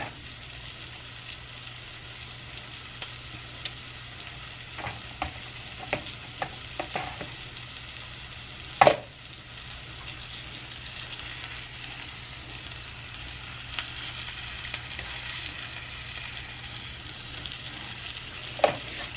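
Maryland-style crab cake patties fry quietly in a pan, a soft steady sizzle with occasional light clicks and one sharper clatter partway through, no talking.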